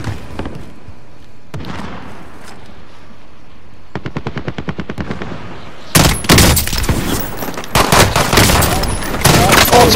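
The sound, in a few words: Burst-fire gunfire in Call of Duty Warzone video game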